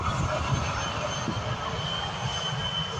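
An Aer Lingus Airbus A320 airliner taxiing at an airport gives a steady, continuous jet engine rumble and whine at moderate distance, unbroken and without talk.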